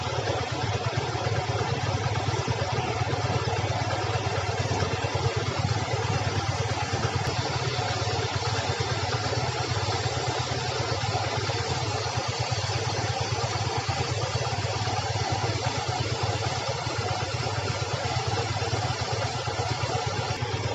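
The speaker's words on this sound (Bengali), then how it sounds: "কারণ বাইকের শব্দে হয়তো বা নাও শুনতে পাচ্ছেন" A motorcycle engine idles steadily and close by during chain cleaning, a constant dense mechanical drone with light clatter that runs unbroken for the whole stretch.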